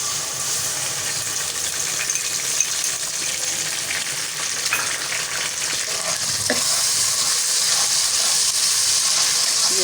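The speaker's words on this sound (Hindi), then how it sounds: "ये देखें, अदरक लहसुन और सब्ज़ मिर्च का पेस्ट" Ginger, garlic and green chilli paste fries with onions in a pan, a loud continuous sizzle with occasional stirring clinks and scrapes, growing slightly louder toward the end, with no talk.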